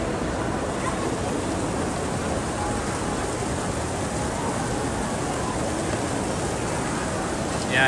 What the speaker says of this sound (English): the waterfall sound you're hearing is down there